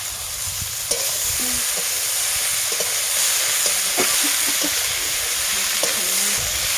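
Boiled potatoes and figs frying in a hot pan, a steady close sizzle with scattered light scraping stirs running throughout.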